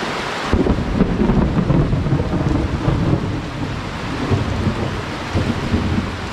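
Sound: heavy rain with thunder in the early morning

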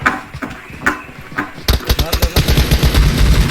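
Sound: gunfire in a shooting video game, Kar98 rifle

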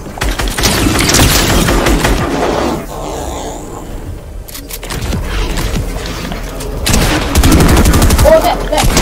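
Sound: gunfire from pump shotgun and SMG in video game

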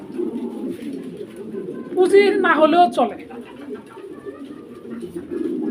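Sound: pigeons cooing at a pigeon market

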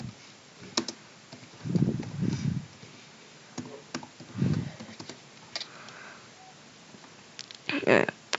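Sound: typing on a computer keyboard

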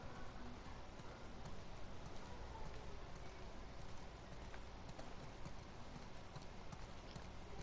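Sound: horse hooves clopping in a video game

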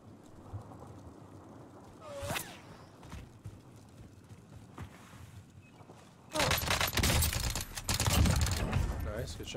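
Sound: gunfire in the Call of Duty: Warzone video game

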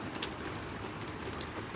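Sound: rain falling

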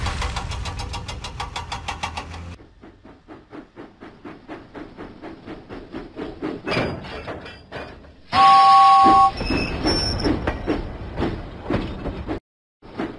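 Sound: steam engine puffing in Thomas and Friends video game

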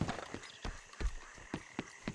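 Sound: horse hooves while riding in Red Dead Redemption 2 video game

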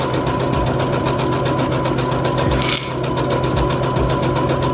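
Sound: sewing machine sewing teddy bear ski mask

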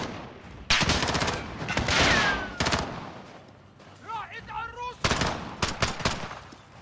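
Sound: gunfire in video game Call of Duty Modern Warfare

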